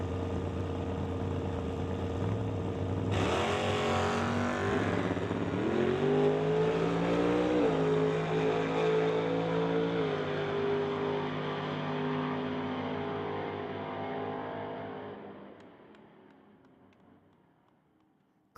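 Super Pro drag race cars launch and accelerate down the track at the NHRA Summit ET Finals in Mission, a loud roar climbing in pitch through gear changes before fading into the distance.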